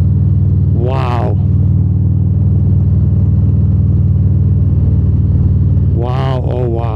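A 2024 Harley-Davidson Road Glide with a Screamin Eagle Pro Street Tune holds a deep, steady engine rumble close by. Someone speaks briefly over it twice.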